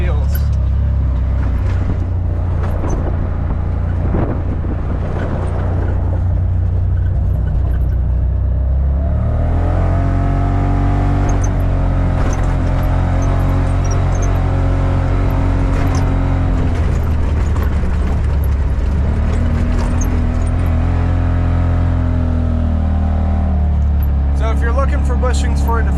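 A Can-Am Defender Pro Limited UTV with upgraded bushings drives down a driveway, its engine droning loudly and steadily up close with gear whine and rising revs, amid road and wind noise.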